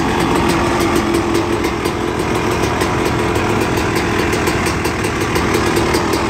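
A freshly rebuilt 2001 Honda CR250 dirt bike with an FMF SST header pipe runs steadily up close, its loud, rapid, buzzing engine note holding without pause. No one speaks.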